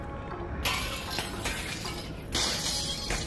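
Glass shattering in the VR game Half-Life: Alyx, a bright crashing burst that spills into a sustained tinkling rattle of falling shards, followed by a second loud smash near the end, close and loud with no talk over it.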